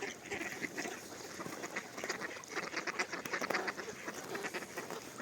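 Ducks quacking repeatedly at a moderate distance, overlapping calls in irregular bursts over a busy outdoor market background in Skhidnytsia, Ukraine.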